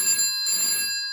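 A 1950s-style telephone bell rings steadily with a UK cadence, driven by a stage telephone ringer and line simulator. The bright, continuous ring carries on through the whole short stretch and no one talks.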